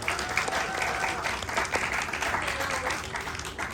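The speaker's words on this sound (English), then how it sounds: "big round of applause to the level 99" A burst of crowd applause and cheering at a game jam pitch event in Malaysia, dense and continuous for a few seconds with voices mixed in.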